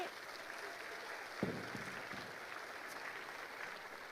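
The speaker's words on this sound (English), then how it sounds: "I'd also like to have everybody give a big round of applause to Susan and Laura and Rick for their time" Applause from an audience at a town community information meeting, a steady wash of clapping heard from a distance and fairly faint, with a few sharper claps standing out.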